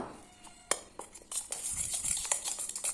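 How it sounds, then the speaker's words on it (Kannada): Hair colour powder being stirred in a bowl, with clinking and scraping strikes of the mixing tool against the bowl, close by and growing busier after the first second. "ಹಾಕಿ ನೀಟಾಗಿ ಮಿಕ್ಸ್ ಮಾಡ್ಕೋಬೇಕು."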